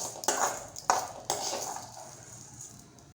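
Roasted urad dal tipped from a pan onto a plate makes a few sharp metallic clinks and scrapes, each trailing a short ringing hiss, close by in a quiet home kitchen.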